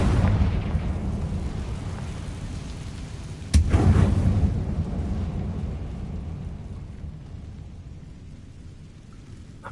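A Confringo fire spell in Hogwarts Legacy detonates with a sharp crack midway, then a deep rumbling roar that slowly fades over a low continuous ambient bed.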